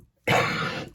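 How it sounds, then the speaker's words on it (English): A single harsh cough, close and loud, lasting most of a second, followed by the start of another. "I really hate coughing on camera."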